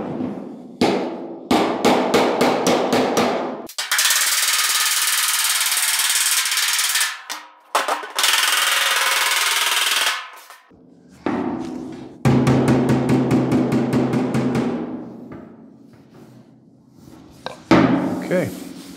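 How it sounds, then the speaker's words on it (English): A round-faced hammer strikes a hand-shaped metal roof skin for a 1940 Ford-inspired build, rapid bursts of sharp close metallic blows alternating with longer ringing, grinding stretches and short pauses. "I need a hammer that has a relatively round face on it."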